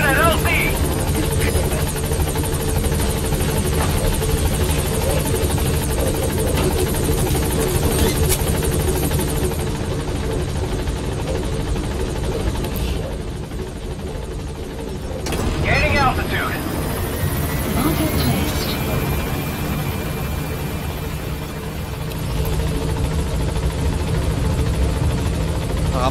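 A helicopter sets down at a landing zone in Metal Gear Solid 5, its steady rotor drone loud and continuous throughout, with voices talking over it.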